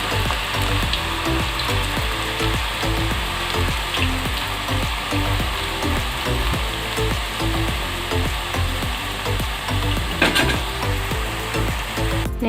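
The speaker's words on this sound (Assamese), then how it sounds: "কম জুইত ভাজি থাকিব লাগিব এইখিনি" Rice-flour nimki fry in hot refined oil on a low flame, giving a loud, continuous sizzle that bubbles steadily for over twelve seconds with no one speaking.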